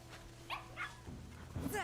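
A dog in the video game Demon's Souls gives a few short, sharp barks spaced across a couple of seconds, heard over a low, steady game ambience.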